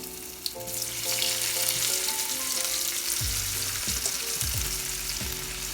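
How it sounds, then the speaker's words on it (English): Potatoes go into hot oil in a skillet: a knock sets off a loud, close, steady sizzle that keeps hissing and spitting, while muffled clunks sound toward the end. "Now we're going to go ahead and put the potatoes in."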